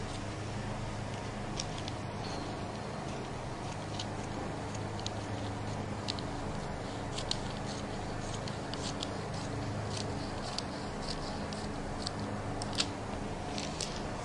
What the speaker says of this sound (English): so all we need to do is cut out the waist